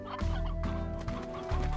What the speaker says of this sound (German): Ach, das ist ein altes Huhn.